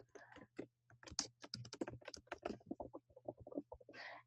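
Rapid, irregular keystrokes on a computer keyboard while entering code, close and fairly crisp, with short pauses between bursts and a faint steady hum underneath.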